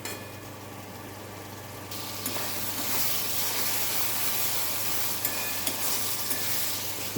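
Kudri (ivy gourd) stir-fried in a pan with a splash of water, a steady loud sizzle that swells after a couple of seconds, with scraping stirs and hissing steam running throughout.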